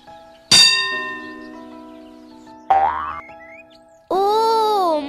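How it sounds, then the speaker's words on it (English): A school bell rings in a children's animated lesson about families: two bright metallic strikes a couple of seconds apart, each fading slowly, then a loud sustained ringing tone near the end. "Buzz, that is our school bell."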